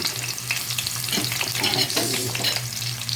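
Garlic fries in a pan with a steady bright sizzle and crackle, close and fairly quiet, with no voices over it.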